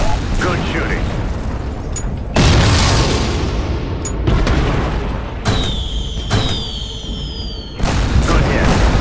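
Loud explosions boom repeatedly as targets are destroyed in the video game Shadow Strike, several heavy broadband blasts spaced a second or two apart over a steady rumble, with radio-style voices talking between them.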